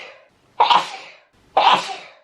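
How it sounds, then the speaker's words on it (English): Two sharp, explosive sneezes from a person with hay fever, spaced about a second apart, each a burst of breathy noise close to the microphone. "Sorry, I keep stopping to sneeze."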